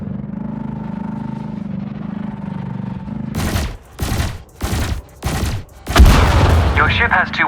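Ship weapons fire in bursts during an Elite Dangerous space combat tutorial, a quiet engine hum giving way to four or five loud, rapid volleys that end in a sustained barrage.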